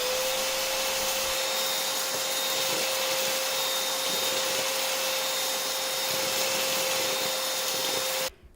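A loud, steady roar with a high whine from a cordless vacuum cleaner on its second power setting holds constant, then cuts off abruptly at the end.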